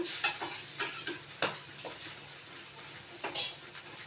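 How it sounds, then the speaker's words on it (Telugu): A spoon scrapes and stirs gongura chutney ingredients frying in a pan, with intermittent clinks and scraping strokes every half second or so over a soft, steady sizzle, close and fairly quiet. "ఇలా కలుపుతూ ఉంటే అంటే సమంగా మనకి ఫ్రై అవుతుంది సమంగా ఉడుకుతుంది అనమాట అందుకోసం నేను కలుపుతున్నాను"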